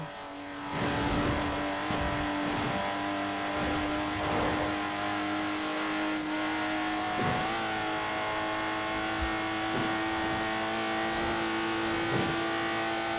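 Lotus Exige engine in Forza Horizon 4, a steady high-pitched drone with distinct harmonic lines that rise and fall as the car shifts and revs, sustained and loud for the whole stretch with brief surges.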